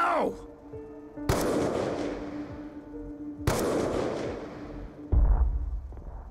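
Two sharp, loud shots ring out in a Call of Duty: Black Ops 2 scene, each followed by a long echoing decay, then a heavy low rumble closes the moment; no one talks.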